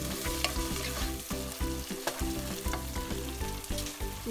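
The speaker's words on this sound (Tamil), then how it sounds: "உருளைக்கிழங்கு ஆனியனும் நல்லா ஃப்ரை ஆகிட்ட அப்புறமா" Potatoes and onions frying in a pan for a spicy potato fry, a steady close sizzle with light scraping stirs throughout, no voices.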